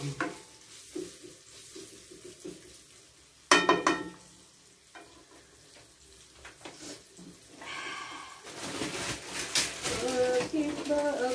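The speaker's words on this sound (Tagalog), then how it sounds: "Ayan na, gisa lang natin ito." Food sautéing in a small pan (kawali) in a cramped home kitchen, with sizzling that swells in the second half, clattering stirring and a sharp burst as ingredients hit the oil, while someone talks at times.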